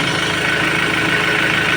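A Ford Ranger T7 engine runs at idle with the air-conditioning compressor off. The close, loud, steady mechanical hum has a fine regular pulsing and stays constant with no speech.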